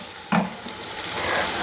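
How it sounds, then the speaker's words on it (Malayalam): Chopped onion fries in a pan for a prawn roast, with a steady loud sizzle and a sharp scrape as it is stirred near the start. "അത് ഇതുപോലെ തന്നെ നമുക്ക് നല്ലപോലെ വറുത്തെടുക്കാം."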